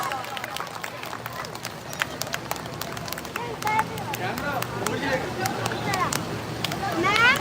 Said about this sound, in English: All the students, give them a round of applause.